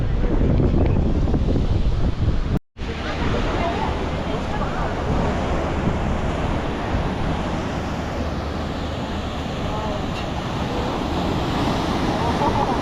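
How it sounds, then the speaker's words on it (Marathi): Sea waves breaking along the Mumbai shoreline make a steady, loud broadband roar mixed with gusting wind buffeting the microphone, continuous apart from one brief dropout. "इकडे लाटा दिसतात प्रॉपर"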